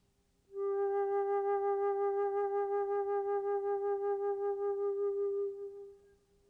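One long flute note played with vibrato, its pitch and loudness pulsing gently and evenly for about five seconds before fading, heard close and alone.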